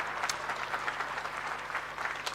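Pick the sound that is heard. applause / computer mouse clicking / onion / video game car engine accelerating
applause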